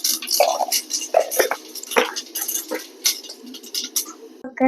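Mustard seeds crackle and splutter in hot coconut oil in a pan, a steady run of sharp close pops and sputters with no talk.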